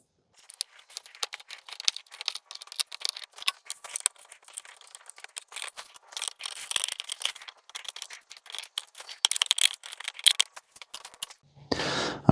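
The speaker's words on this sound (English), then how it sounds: "So I'm going to take my time, unscrew these 3 screws" Small screws being unscrewed from a Tesla Model Y mirror housing, giving close, dry clicking and rattling with short scrapes in irregular bursts, ending in a louder thump.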